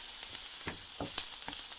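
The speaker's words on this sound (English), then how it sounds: "I am frying up a half of a large onion here" Half a large onion crackles and sizzles steadily in a hot pan, with scattered sharp pops over a constant hiss.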